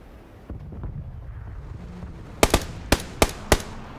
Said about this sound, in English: So it does land the initial headshot onto Sparkle